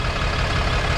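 Scania Fencer f1 coach with a Euro 6 Step E DC07 280-horsepower engine running, a steady low rumble held close and loud throughout, with no speech.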